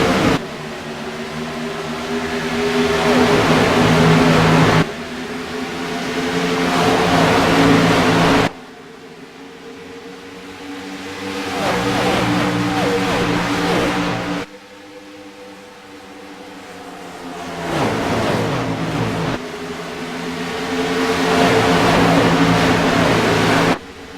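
Race cars at Charlotte Motor Speedway accelerate on a green flag restart. Close, loud engine roars rise in pitch through several passes, with brief dips between them.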